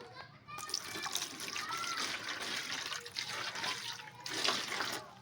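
Food rinsed by hand under running water, a steady splashing and trickling flow that carries on throughout, close by, with children's voices faintly in the background.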